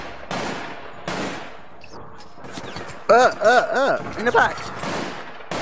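Bursts of rapid gunfire in the online game APB Reloaded crackle sharply over a few seconds, with short volleys and single shots, while a player's voice talks briefly over the action.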